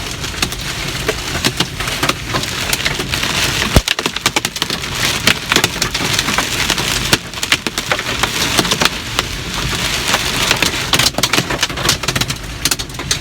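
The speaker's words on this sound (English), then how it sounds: "That must be some pretty good sized hail." Large hail hammers down in a dense, loud, crackling clatter, a continuous barrage of sharp impacts that keeps up without a break and with no voices over it.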